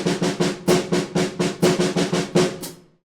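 A drum fill of four sixteenth notes followed by a quintuplet, played as a rapid run of about a dozen sharp drum hits in a steady rhythm that stops abruptly, close and alone.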